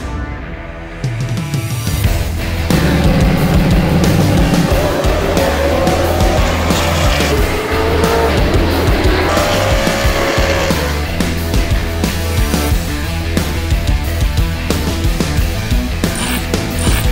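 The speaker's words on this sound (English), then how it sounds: "Live short track racing." Stock cars race on a short oval track, the loud engine roar sustained throughout with shifting pitch as cars pass, alongside layered crowd and music-like background noise.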